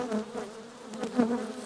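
Black honey bees humming at an open hive during winter fondant feeding, a steady close buzz with wingbeat swells and a louder peak near the end.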